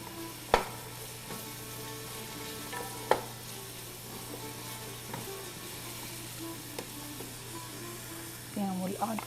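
Vegetables sauté over high heat in a pan, a steady soft sizzle broken by a few sharp utensil clicks and stirring scrapes, with a louder burst of scraping near the end.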